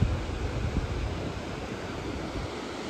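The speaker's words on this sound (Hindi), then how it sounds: "फिर ये आ गया जो ट्रिपल स्टेज वाला वाटरफॉल, बड़ा सबसे।" Large triple-stage waterfall on the Rupin Pass trek in Kinnaur, heard as a steady broad rushing roar of water with some wind, constant throughout and without speech.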